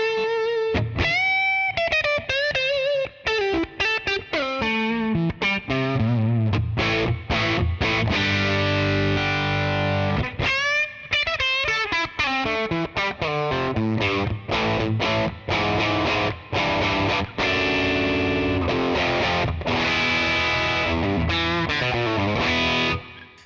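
Electric guitar through a 1967 Fender Twin Reverb Blackface amp on the vibrato channel, set for warm crunch: a continuous played phrase of driven notes and chords, loud and alone.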